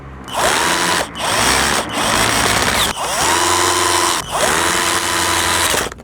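A power drill or driver runs loud and close in repeated bursts with short pauses, tightening nuts while a single-tub 8 kg Samsung washing machine is reassembled.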